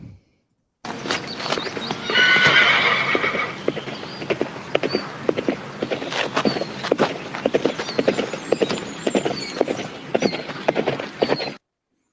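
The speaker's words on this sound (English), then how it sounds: "A horse is heard approaching" A horse's hooves clip-clop in an uneven walking rhythm as it approaches, close and clear, with a brief whinny early on in this radio drama effect.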